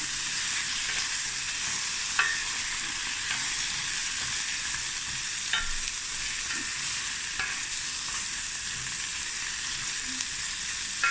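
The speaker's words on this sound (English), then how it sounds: "So now I'm just going to brown this all together." Meat for a cauliflower stew (beef, lamb or mutton) browns in a pot, a steady broadband sizzle and crackle with a few sharper pops and spatters, close and continuous, no talking.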